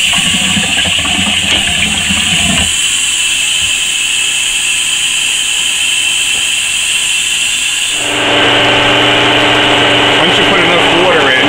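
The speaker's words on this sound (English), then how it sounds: "And then we start filling it up with water." Water runs steadily into a container being filled to mix insulation into a clay-like monster prop, a loud continuous rush whose tone shifts partway through and swells louder near the end.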